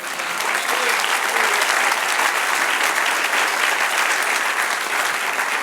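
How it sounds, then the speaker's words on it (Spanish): A church congregation breaks into steady, dense applause that fills the room evenly from start to finish, loud and sustained, with no voice standing out above the clapping. "Denle un aplauso al Señor"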